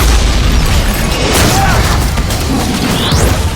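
An airplane explodes in a film scene, a single loud booming blast with crashing debris that rumbles on and fades, alone without talk.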